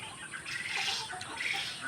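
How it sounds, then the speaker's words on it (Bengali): Quail in a village farm shed give faint, thin chirping calls, a soft twittering that rises and falls over a couple of seconds with no talk. "কোয়েল পাখি"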